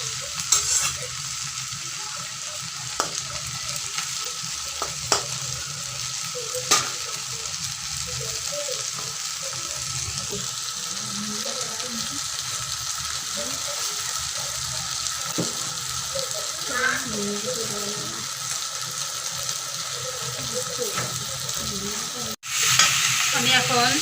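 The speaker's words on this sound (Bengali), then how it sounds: "এখন হালকা হালকা করে একটু নাড়াচাড়া করবো" Katla fish oil paturi fries in a pan, a steady dense sizzle running throughout with occasional light stirring clicks and scrapes, nearby and with no voices.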